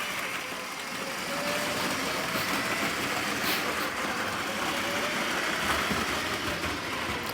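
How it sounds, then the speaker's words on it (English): A model Orient Express train driven by a small 9-volt motor, giving a steady whirring, rumbling hum that holds at an even level throughout. "to put a 9-volt motor underneath this thing, and it works pretty well"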